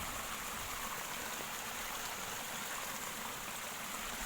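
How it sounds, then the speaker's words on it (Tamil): Water pouring out through a breach in a paddy field bank, a steady rushing hiss of flowing water, close and unbroken, with no voices. "தண்ணி வயல்லேருந்து எப்படி உடச்சி விட்டு தண்ணி எப்படி வருது பாருங்க"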